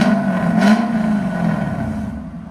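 The 5.0L V8 of a Lexus IS 500 revs loudly with its exhaust valves open, giving one sustained throaty roar that fades toward the end.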